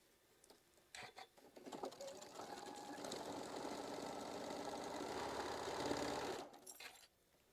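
A sewing machine stitches a quilt block for a block-of-the-month quilt, running steadily and close up for about five seconds after a few brief starts, then stopping abruptly.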